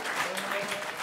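Scattered applause from a comedy club audience after a performer mentions turning thirty, a short burst of clapping over roughly a second at moderate distance, mixed with faint crowd voices.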